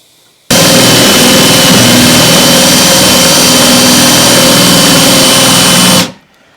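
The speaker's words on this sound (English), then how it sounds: "I'm lessening the pressure on the drill as I get near to breaking through the other side" A power drill bores through wood at a loud, constant high whine for several seconds, starting abruptly and winding down at the end as pressure eases near breaking through.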